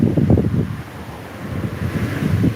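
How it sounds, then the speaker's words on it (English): Gusty wind buffets the microphone outdoors beside a road in low, uneven rumbling bursts, strongest at the start and end, with no speech. "it's pretty windy outside because I'm sitting on the chair near the road"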